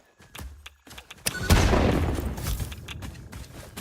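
Gunfire in the video game Satisfactory, a few sharp shots followed by a heavy booming blast that rumbles and fades, loud and without talk.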